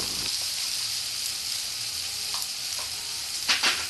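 Masala spices frying in a pan for Bengali-style mutton keema with kabuli chana, a faint steady sizzle with a couple of soft scrapes near the end.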